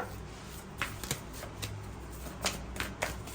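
Tarot cards drawn one at a time from a deck, giving several soft, brief card snaps and slides spread across a few seconds over a low background hum.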